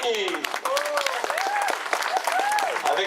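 Applause at a women's cycling podium ceremony for the Italian champion, steady crowd clapping throughout while an announcer talks over it through a PA.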